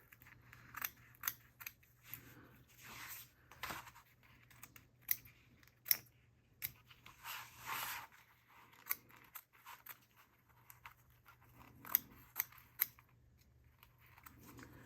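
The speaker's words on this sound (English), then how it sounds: "I'm just going to snip the fabric away" Scissors snip through fabric while trimming beside a zipper overlay on a sewing project, a series of quiet, crisp cuts in irregular bursts with short pauses between them, close and soft with no talking.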